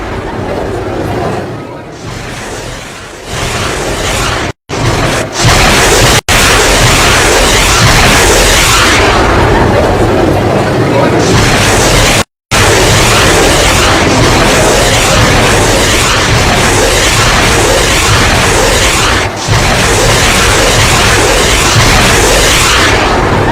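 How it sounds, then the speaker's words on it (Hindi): A dangerous missile is test-launched under Kim Jong Un's watch, a loud, continuous roaring blast that fills everything for over twenty seconds, broken only by a few abrupt cutouts, with a crowd-like murmur mixed into the rumble. "किम जोंग ने आज एक खतरनाक मिसाइल का परीक्षण किया है।"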